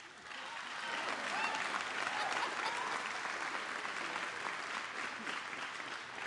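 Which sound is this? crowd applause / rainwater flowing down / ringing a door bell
crowd applause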